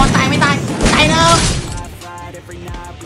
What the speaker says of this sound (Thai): ผมยิง RPG ไป